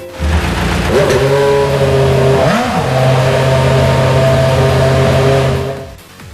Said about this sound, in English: Listen to the engine roar!